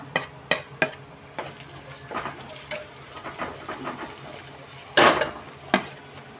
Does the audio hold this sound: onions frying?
yes